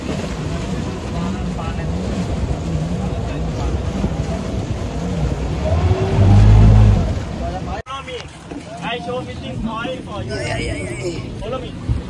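A motorboat engine hums off a coral island shore in Thailand, blended with wind buffeting the microphone and water noise, while people talk over it; the engine sound thins out partway through.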